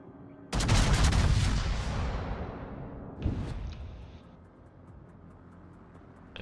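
Warship guns fire in the World of Warships naval battle game: a loud, deep salvo booms and rolls off slowly, followed by a second, sharper report and fading rumble, with no talking.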